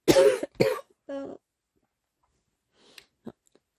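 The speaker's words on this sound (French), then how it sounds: "Je vais tousser." Two sharp coughs close together, followed by a throat-clearing rasp, then quiet with a few faint breaths and small mouth sounds.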